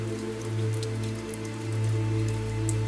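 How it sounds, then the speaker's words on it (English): Soft rain ticks and patters steadily on a car hood on a quiet street at night, over a low, constant idling engine hum. "no sound except the engine and the soft ticking of rain cooling on the hood"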